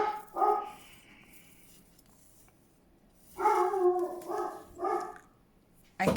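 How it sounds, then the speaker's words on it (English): Dog barks in a home craft workspace: a short bark near the start, then a cluster of three loud barks around the middle, and another sharp bark cut off at the end, with quiet room tone between. "obviously the dog was barking"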